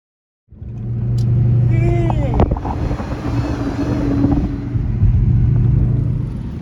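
A 2003 Mustang Cobra drag car makes a pass, its engine bursting in suddenly and roaring loud and steady with wind buffeting the microphone.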